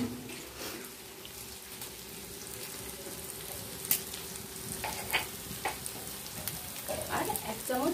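Spices with salt, Kashmiri chili and turmeric frying in a kadai for Bengali aloo dum, a steady close sizzle with scattered scraping and stirring clicks throughout.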